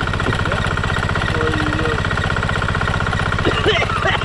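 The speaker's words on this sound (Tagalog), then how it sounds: "Yung isa makina maandar na." A diesel engine, just fueled, runs at a steady, loud, rhythmic idle that throbs and knocks close by, while voices talk over it.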